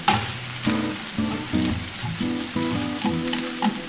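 A steak sears in a hot pan with a close, steady sizzle. A tonal hum is layered over it and rises and falls in short stepped phrases that sound like background music.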